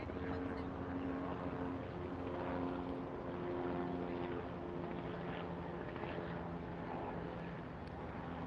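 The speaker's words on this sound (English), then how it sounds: "See the helicopter? That light in the sky? It's helicopter." Steady droning rotor and engine noise of a helicopter overhead in New York City, moderately distant and constant, with faint voices underneath.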